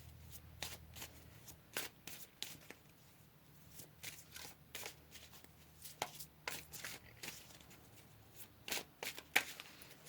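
Tarot cards are shuffled by hand at close range, a steady patter of quick papery riffles and soft taps over about ten seconds, with a faint low hum beneath and no voices.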